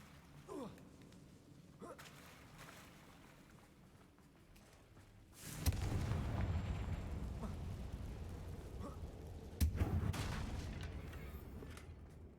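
A Confringo spell blast in Hogwarts Legacy detonates as a sharp, loud explosive crack followed by a long rumbling roar, then a second crack-like burst hits a few seconds later over the lingering rumble.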